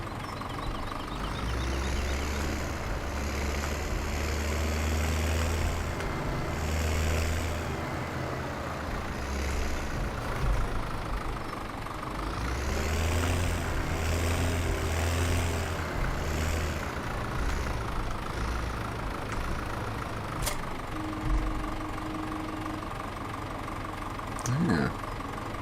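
Tractor engine in Farming Simulator 17 running at a steady, loud idle throughout, with a rough, throbbing rumble and slight changes in pitch, alone and close.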